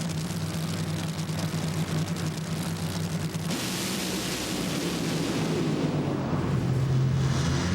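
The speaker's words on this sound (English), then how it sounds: "a huge explosion for Gilbertson" A drag racing car's engine explodes during qualifying at the 2005 NHRA Las Vegas Nationals, a loud sustained roar and blast that fills the track air, shifting partway through into a broader rumbling burst with no speech over it.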